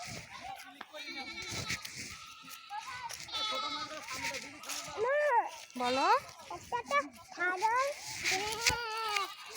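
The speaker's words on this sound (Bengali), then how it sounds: "ছাগল তো ভ্যাঁ করে ডাকে" Goats bleat repeatedly near a jackfruit tree, several wavering cries rising and falling among rustling, while a child and an adult speak over and between the calls.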